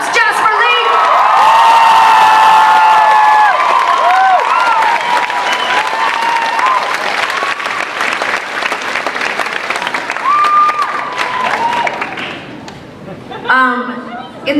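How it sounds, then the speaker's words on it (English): A concert crowd applauding and cheering loudly, with whoops and high shouts rising over dense clapping that holds strong for most of the stretch before easing off. "Give him a huge round of applause."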